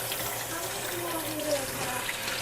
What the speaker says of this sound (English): So I'm gonna just rinse my hands off